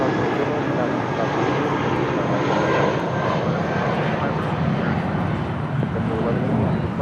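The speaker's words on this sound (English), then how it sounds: "1180 taking off to Las Vegas on an A320." A JetBlue Airbus A320 airliner taking off at LAX bound for Las Vegas, its jet engines producing a steady, loud, broadband roar throughout, with a voice talking over it.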